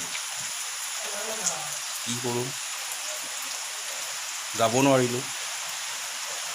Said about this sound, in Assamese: বৰষুণ আহি গ'ল